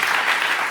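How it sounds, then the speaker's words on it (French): Dense crowd applause fills the whole moment, a steady wash of many hands clapping at once with no gaps, loud and close, at a lighthearted French comedy pageant show. "Applaudissements."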